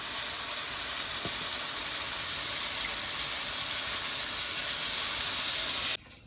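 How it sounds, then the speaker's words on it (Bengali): Marinated hilsa fish for a mustard-oil chili curry sits in a hot pan as water is splashed in, setting off a loud, steady steam hiss that holds for about six seconds and then cuts off abruptly. "এবার এই খোলাতে একটু জল বুলিয়ে দিয়ে দেবো"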